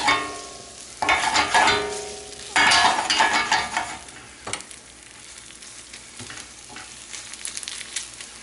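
Spaetzle sautéing in butter in a pan, close crackling sizzle with two loud bursts of stirring early on, then a quieter steady frying with occasional light scrapes and no voices.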